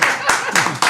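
Clapping at a lively Brazilian talk-show chat about Vasco football legend Roberto Dinamite, a short burst of hand claps mixed with voices talking over it, close and loud for about a second.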